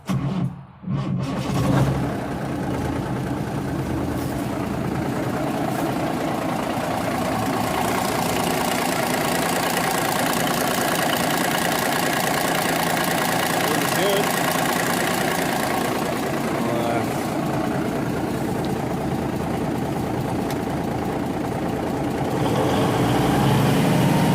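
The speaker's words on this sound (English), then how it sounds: "Hit the key. Should fire right off." A 1979 Kenworth W900A truck engine runs at a steady, loud idle, a continuous deep diesel rumble with a slightly rough, knocking texture that holds evenly throughout after a brief start at the beginning.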